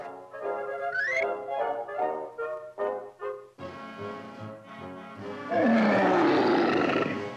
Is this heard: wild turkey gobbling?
no